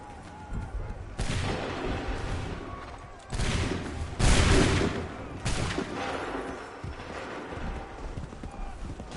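Musket volleys fire in the game Assassin's Creed 3, several broad, crackling bursts spread across the clip, with one especially heavy discharge near the middle and battle noise between.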